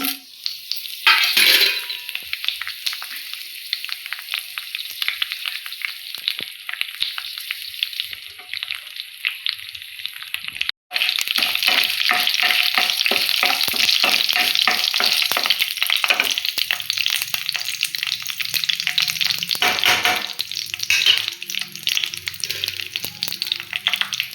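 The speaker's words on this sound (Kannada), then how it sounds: "ನಾನು 2 ಸ್ಪೂನ್ ಆಯಿಲ್ ಹಾಕ್ಕೊಂಡಿದ್ದೀನಿ. ಸಾಸಿವೆ ಹಾಕ್ಕೊತಿದ್ದೀನಿ, ಕರಿಬೇವು" Mustard seeds and curry leaves sizzle in a couple of spoons of hot oil for a rasam, a loud, steady crackling fry with scattered pops and faint stirring, no voices.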